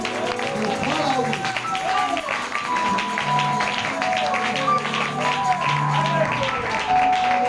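A congregation at an evangelism campaign service applauds to welcome a pastor, steady clapping and crowd noise running throughout with a voice talking over it.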